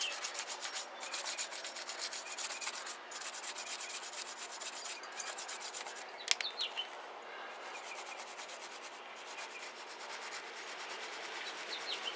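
Hand scrubbing of a corroded wheel on a 1978 Lincoln Continental Mark V with brake cleaner, a close, continuous, rapid rubbing rasp going back and forth throughout, with a faint bird in the background.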